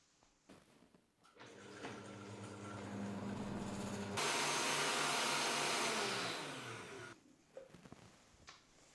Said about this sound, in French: Et c'est parti pour mixer la préparation.